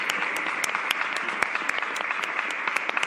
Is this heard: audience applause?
yes